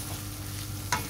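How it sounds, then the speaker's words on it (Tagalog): Chicken hotdog frying with garlic and onion in a pan, a steady close sizzle with a short clink of stirring near the end; brief, no talking. "Lutuin lang natin yung hotdog para masarap."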